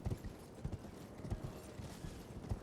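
Horse hooves in the Elden Ring video game, a steady galloping clip-clop of repeated thudding beats near and fairly loud over a continuous background rumble.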